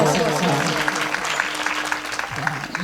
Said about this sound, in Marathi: एकदा विठ्ठल महाराजांसाठी टाळ्या वाजवा सगळ्या.